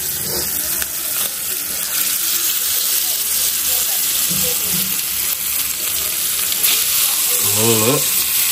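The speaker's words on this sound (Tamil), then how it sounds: "இப்போ அடுத்தது நம்ம ஃபிஷ் ஃப்ரை போட போகிறோம்." Fish sizzles steadily in hot oil in a home kitchen, with a loud, continuous frying hiss throughout, some stirring or clattering, and faint voices in the background.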